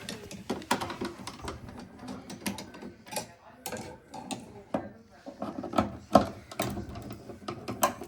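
Screws on the battery cover of an Acorn/Brooks 130 stairlift being undone, with a run of small metallic clicks, taps and ratcheting scrapes close by, irregularly spaced over a faint background.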